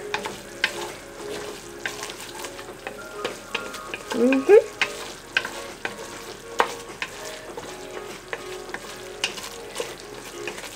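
A blonde roux for vegetarian Creole gumbo sizzles steadily in a pan while being stirred. Soft scraping strokes come through over the constant, fairly quiet frying hiss.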